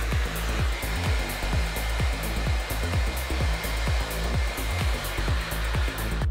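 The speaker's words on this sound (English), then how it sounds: "using the Panasonic hair dryer, we're going to dry the hair off" A Panasonic hair dryer runs continuously at close range while drying hair, a loud steady airflow whine with a rhythmic brushing or rubbing pulse beneath it.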